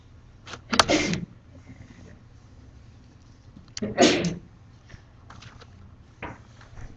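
A person sneezes twice, a sharp loud burst near one second and another near four seconds, with quiet room noise and a few small knocks in between.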